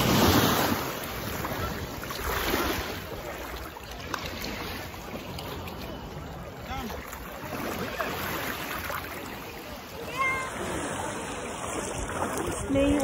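Surf washes in and out at Megan Beach on St. Thomas, with soft rolling waves heard over gusty wind buffeting the microphone, steady and moderately close throughout.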